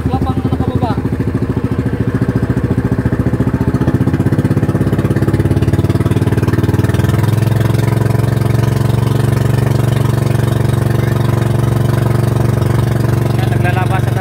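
Fishing boat engines chugging loudly as boats head out to sea, a steady close motor drone that thickens and grows louder, with voices talking beneath.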